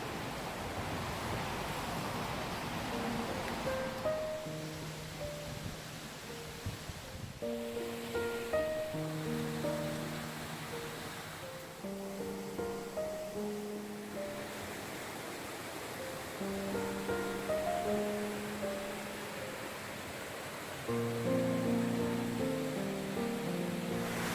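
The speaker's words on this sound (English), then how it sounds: "It's not a big river, is it? But it's got some power." Small but powerful river on Dartmoor, rushing water forming a steady broadband roar that continues throughout, with faint tonal sounds drifting over it.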